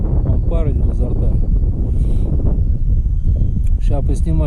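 Cold northeast wind at about 6°C buffets the microphone with a loud, steady low roar while someone walks into it along the Oka River. Someone talks over the wind throughout.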